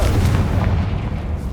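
A Confringo blasting spell bursts in the Hogwarts Legacy video game inside an old catacomb, a deep booming explosion with a rumbling low tail, loud and sustained for over a second.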